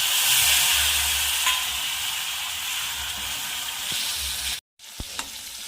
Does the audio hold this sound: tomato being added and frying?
yes